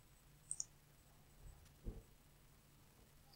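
Computer mouse clicking in a quiet room: a couple of quick close clicks, then a single soft click a moment later, faint and isolated with no talk.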